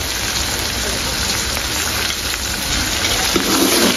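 Chopped garlic and green chillies sizzle in hot oil as they fry, a steady, dense, close hiss that carries on unbroken throughout with no voices.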